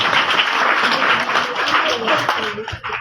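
An audience at a student prize-giving ceremony bursts into steady, dense applause that fills the space, with a voice heard over the clapping.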